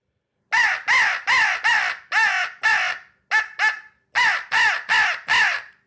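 A custom turkey game call works through a run of about a dozen raspy, yelping notes in quick, even bursts with a short pause partway through, loud and close and alone, mimicking a turkey's growl and calls.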